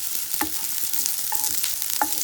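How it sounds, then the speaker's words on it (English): Chicken jalfrezi ingredients stir-fried over medium heat in a pan, a steady close sizzle with a few sharper scraping stirs of the spatula at regular intervals. "we're going to put our heat on medium, like this, and we're just going to stir fry these"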